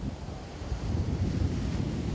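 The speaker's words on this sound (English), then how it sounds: "The Atlantic Ocean provides a perfect backdrop on a windy day in Monrovia's Mamba" Atlantic Ocean surf and gusting wind at Mamba Point beach in Monrovia on a windy day, a steady, loud, unbroken roar of breaking waves mixed with low wind rumble on the microphone, with no voices.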